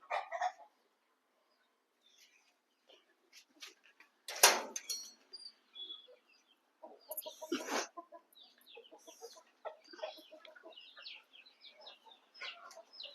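Free-range country chickens cluck and call close by while being fed, with scattered short clucks and a few louder squawks breaking through quieter stretches.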